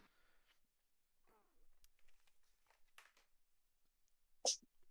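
A single sharp sneeze bursts out near the end amid quiet room noise and faint murmurs during a tabletop role-playing game session.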